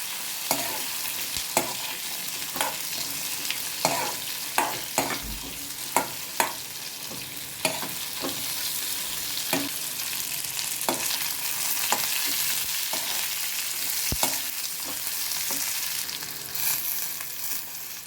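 Cumin seeds fry in hot oil for ridge gourd chutney with a steady, dense sizzle, broken by scattered scraping clicks of stirring. No one speaks.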